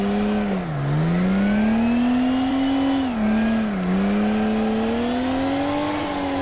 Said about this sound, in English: This is quite a bit of wheel spin, even though the revs are low, because you're almost standing still.